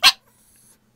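A single short, sharp dog bark right at the start, loud and close, then near silence with only a faint low hum for the rest of the second.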